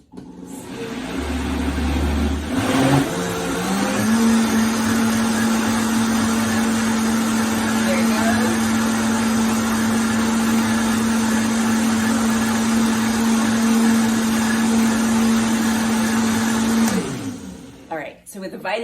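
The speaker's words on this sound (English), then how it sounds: "So with the Vitamix, the mixing goes way faster than a blender" A Vitamix blender blends a veggie smoothie with leafy greens, starting with a short rough chop, then ramping up to a loud, steady high-speed whir for about thirteen seconds before spinning down.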